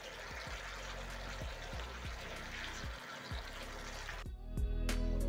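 About one and a half cups of water pour into a pan of chicken in tomato sauce for a stew, a continuous rushing splash that stops abruptly near the end, followed by a brief clatter.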